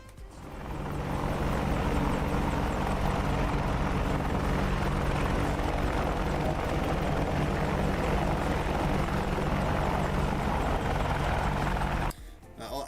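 Apache attack helicopter in a flight simulator game, its steady rotor and engine drone running loud and continuous, then cutting off abruptly near the end.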